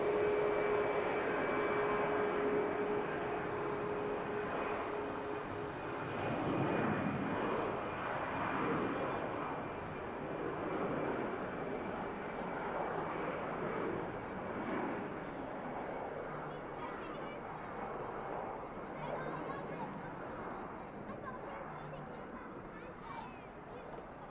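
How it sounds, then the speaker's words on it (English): A Brussels Airlines Airbus A320neo spooling up its engines at Manchester Airport, a broad steady roar with a whining tone that swells and then holds, heard from a distance while people talk now and then. "Noisy spool up from the 320 Neo of Brussels."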